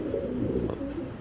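A large fat-line pigeon hen coos nearby, a low, steady, throaty murmur that carries on without a break.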